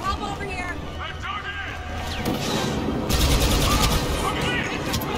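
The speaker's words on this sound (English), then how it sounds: "They're shooting at me." Blaster fire in Star Wars Battlefront 2 rattles in rapid bursts and volleys with crashing impacts, loud and dense throughout, while a voice shouts over it.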